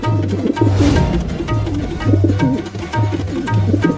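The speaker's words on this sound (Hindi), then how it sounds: "इतने सारे कबूतर जमीन पर उतरे हुए हैं" Pigeons coo in repeated low, steady calls with a regular rhythm in a Hindi cartoon, the soft throaty coos sounding close and continuous over a busy background.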